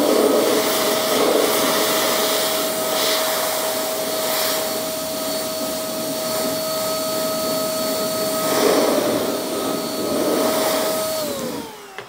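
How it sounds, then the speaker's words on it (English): Forced air blowing steadily to dry an acrylic tire coating on a car tire, a loud continuous blower hiss with a steady whine that cuts off abruptly at the end. "Let's take some forced air and see how easy it is or how hard it is to dry."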